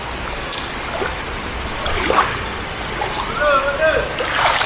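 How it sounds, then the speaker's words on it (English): A steady wash of heavy rain pours down in Malaysia, with splashing and dripping, while people talk excitedly over it. "Oh no, it's raining!"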